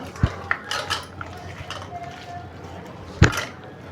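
Small prawn pakoda batter being mixed in a bowl by hand with a spoon, giving a few sharp clinks and soft scrapes against the bowl over a low background hum.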